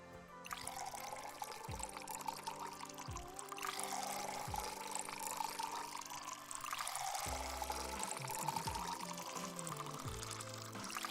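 Liquid pours into flasks in a puzzle game, a steady continuous splashing stream under layered game sounds and synth tones, moderately loud throughout.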